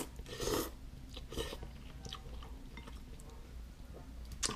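Crunchy fried onion topping on MyKuali Penang spicy prawn ramen being chewed, with a few close, crisp bites at the start and softer chewing after, with no talking.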